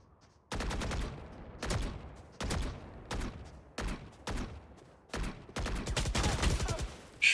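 Rapid gunfire from a video game shootout, several loud bursts of automatic fire separated by short pauses, ending in a long sustained volley.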